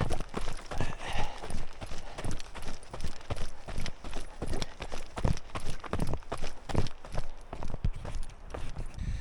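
Horses walk ahead on a mountain trail, their hooves clip-clopping in a steady, close rhythm of repeated thuds throughout, with faint outdoor background.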